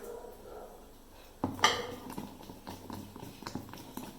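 Sena idli batter with soda is stirred by hand in a vessel, a sudden clatter followed by soft, irregular scraping and tapping close by, fairly quiet.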